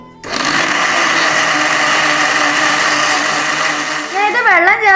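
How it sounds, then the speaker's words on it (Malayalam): Chopped banana pieces are ground into a paste in a blender, which starts abruptly and runs as a loud, steady motor whine with a grinding rattle, and a warbling, wavering tone comes in near the end. "ഇനി നമുക്കിതൊന്ന് അടിച്ചെടുക്കാം"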